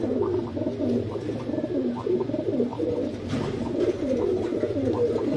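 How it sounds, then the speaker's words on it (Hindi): A large teddy pigeon coos in repeated soft, throaty bursts, a steady rolling rhythm heard close up with light background noise. "प्योर चौधरी वाला बड़ा कबूतर है जी"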